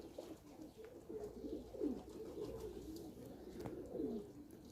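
Pigeons coo nearby in repeated low, throaty rolling calls, several swelling phrases over a soft background hiss.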